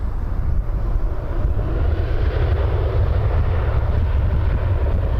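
A jet airliner at Toronto Pearson airport begins its takeoff roll, a steady, loud, broadband engine roar with heavy low rumble that holds constant throughout, with no voices.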